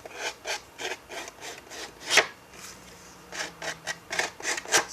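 Paper edges are roughed up for a handmade flip book with quick scraping strokes in a short, uneven series of raspy rubs, close and moderately quiet, with one sharper stroke near the middle.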